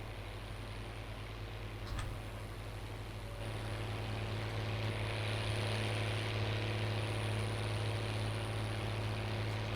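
A tractor in Farming Simulator 19 drives along with a steady, droning engine hum that holds constant and grows slightly fuller as it continues.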